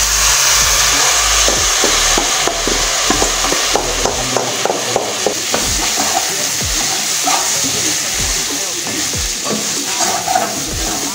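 Garlic and sliced salted potatoes frying in a pan, a loud continuous sizzle with frequent scraping and clinking of a utensil stirring throughout, and no voices.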